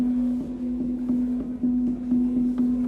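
Bitwig phase-synthesis synth holding a steady low sustained tone as its phase control is adjusted, with a faint pulsing throb through the continuous drone and no voices.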